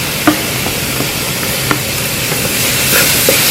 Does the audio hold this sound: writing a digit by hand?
no